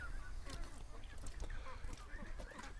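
Ducks by a stream honk and call faintly over a steady rush of flowing water, their calls scattered and distant.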